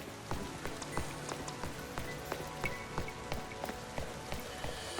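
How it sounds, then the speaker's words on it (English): Rain falling in the Pokémon Legends: Z-A video game, a dense steady patter with frequent crisp drop ticks scattered throughout, fairly quiet and heard alone. "oh no, it's still raining"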